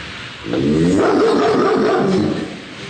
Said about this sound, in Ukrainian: тут можна зустріти нашого сторожа, собаку на прізвисько Портер